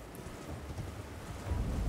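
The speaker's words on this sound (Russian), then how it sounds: "Вот тебе и дождь начался" Rain falls steadily with low rumbling thunder in the Elden Ring video game, a dense, continuous hiss with a deep rumble swelling near the end, no voices.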